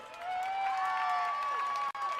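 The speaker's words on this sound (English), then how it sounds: "And you hear the crowd now. It's about the loudest they've been since the interception." A stadium crowd at a WFA pro women's football game between Minnesota and St. Louis roars in a steady, distant wash of cheering, with whistle-like tones and shouts rising above the din.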